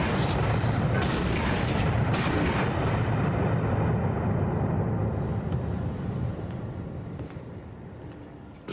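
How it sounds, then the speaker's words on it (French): Cannon artillery fires in a dramatized battle, with a dense, continuous roar of booms and rumble that fades slightly toward the end, heard without talk. "il ne résistera pas au feu de nos canons."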